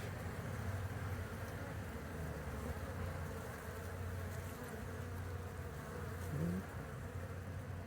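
Honeybees drone steadily during a hive inspection, a dense close buzzing that fills the whole stretch at an even, moderate level, with a single bee passing nearer and louder near the end.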